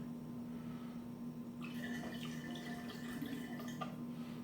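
Sugar is poured into a vessel of cider being made for fermentation, a soft pattering, trickling rush starting partway through and running for a couple of seconds over a low steady hum, fairly quiet and close.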